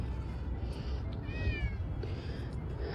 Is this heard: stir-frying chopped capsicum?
no